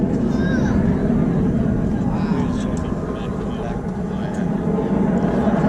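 A Blue Angels F-18 Hornet jet climbs steeply during a practice show at Pensacola, Florida, producing a loud, sustained roar that fills the whole moment without letup.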